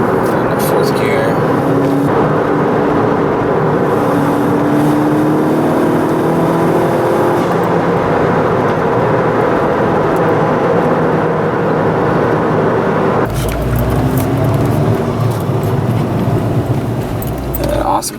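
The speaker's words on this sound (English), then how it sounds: "Let's see if we can do a pull here" A car held in fourth gear on an all-wheel-drive dyno, tuned and running about E40 ethanol fuel, drones loud and steady with a rising engine tone, then a louder rush of engine and roller noise near the end.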